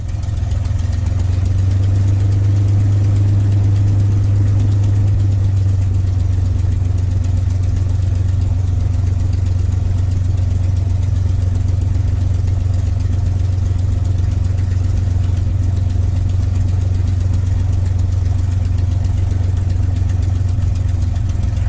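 A P-51 aircraft's piston engine runs steadily while taxiing, a loud, continuous low droning rumble with a slight shift in pitch early on, close and unbroken throughout.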